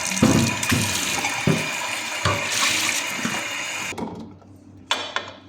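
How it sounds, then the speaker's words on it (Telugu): Green apples are washed under a running tap, a close rushing splash of water with bursts of handling. The water cuts off abruptly, followed by a quieter pause and a final short splash. "గ్రీన్ ఆపిల్ అయితే కడిగేసుకొని శుభ్రంగా"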